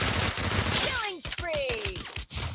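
Gunfire erupts in a Free Fire battle royale match, with close rapid shots forming a quick burst over busy game noise. A voice speaks briefly over the shots.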